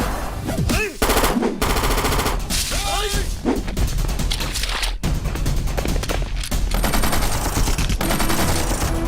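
Gunshots in a Punjabi comedy film scene, with rapid bursts of automatic fire and crashing impacts mixed with music and dramatic effects, loud and dense throughout, with a voice cutting in briefly.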